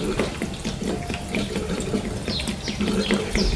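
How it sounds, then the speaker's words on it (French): Fluid leaking from a Farmall Cub tractor and splashing onto the ground, a close, continuous trickling pour with small spatters throughout. "cette fois, ça va fuir et on aura 10 litres par terre"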